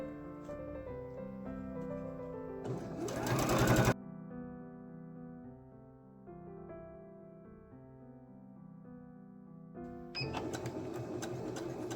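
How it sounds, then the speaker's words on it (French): A sewing machine stitches bias binding along a fold line in a steady, close mechanical whir with a rhythmic hum, broken by a brief sharp burst and a pause before it runs again, with no voices. "On a donc cousu sur la première ligne de pliure de notre biais."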